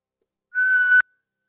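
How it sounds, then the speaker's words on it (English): A single steady whistling exhale through pursed lips during a yoga breathing exercise, close and clear, lasting about half a second before stopping abruptly into silence. "exhale, whistle."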